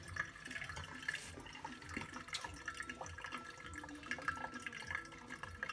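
Water pours from a kettle in a slow circular motion over coffee grounds for a Hario pour-over, a soft, steady trickle with small drips and splashes, close and faint, with no talking.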